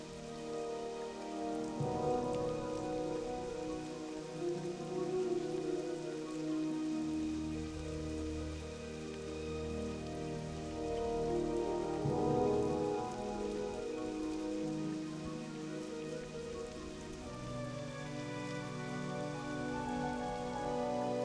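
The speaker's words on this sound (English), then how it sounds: "Don't think I've ever seen it rain this much." Heavy rain in Ashenvale in World of Warcraft: Wrath of the Lich King Classic, a steady dense patter of rain falling on surfaces throughout, with game music playing underneath and no talk.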